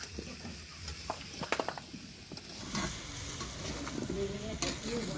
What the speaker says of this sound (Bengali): আলু এঁচড় একসঙ্গে ভেজে নিলে ভালো হয়